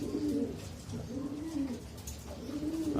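Pigeons coo nearby in low, soft, rolling calls that repeat steadily, overlapping one another against a faint background hiss.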